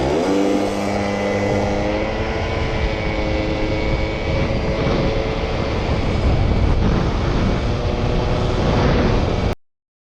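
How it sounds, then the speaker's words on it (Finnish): Research scooter engine running hot after warming up, a loud, steady high-revving drone with harmonic whine held for about nine seconds before cutting off abruptly. "katsotaanpa mitä sitten tapahtuu, kun tuo moottori on lämmennyt."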